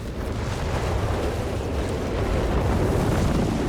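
A 305mm artillery barrage in Company of Heroes 3 makes a loud, continuous roar of heavy explosions. The blasts blend into one dense, rumbling wall of sound with no clear gaps.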